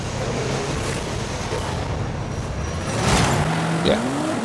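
A Ferrari engine in a racing video game drones steadily, then revs up near the end with a rising tone, with road noise underneath and no talking.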